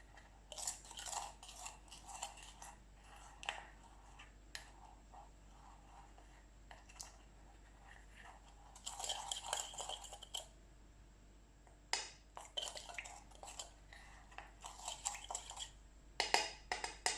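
Yeast being stirred with sugar in a small bowl for panettone dough, faint scraping and clinking of a spoon in short bursts with quiet pauses between, close but soft.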